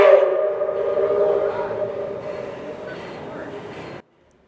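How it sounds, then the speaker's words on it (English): A train hauled by Southern Railway steam locomotive 154 departs a station, rumbling and humming steadily with strong low tones, gradually fading slightly before cutting off abruptly near the end. "The train begins to make its way eastbound out of the station"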